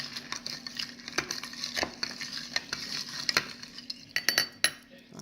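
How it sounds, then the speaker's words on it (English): A spoon stirs a mocktail in a glass, producing a steady series of close, bright clinks and scrapes against the sides, with a few louder taps toward the end and no talking. "Let me stir it up and see how it tastes."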